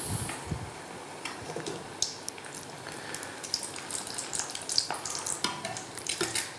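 Food frying fast in hot oil in a restaurant kitchen, a steady crackling sizzle with scattered sharp pops and spatters running throughout, close and moderately loud with no voices.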